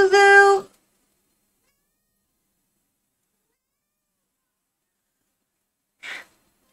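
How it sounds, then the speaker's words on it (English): A pet cat sitting on a lap gives one clear, close meow, followed by long silence and then a brief soft breathy sound near the end. "Yes, I have a cat on my lap."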